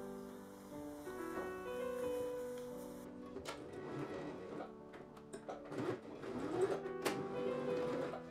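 A sewing machine stitches a fabric face mask with a quiet, quick mechanical ticking that starts a few seconds in and runs in short bursts and pauses, with faint background music throughout.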